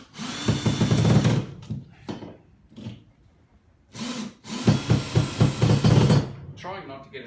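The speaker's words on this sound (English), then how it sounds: "I'm actually going to drive it through to make sure there's plenty of room there." Power drill driving a screw into wood while installing overhead garage shelves, two loud bursts of grinding motor whir with rattling as the screw bites, separated by a short pause.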